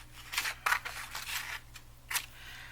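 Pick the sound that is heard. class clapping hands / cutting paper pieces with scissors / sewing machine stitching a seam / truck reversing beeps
cutting paper pieces with scissors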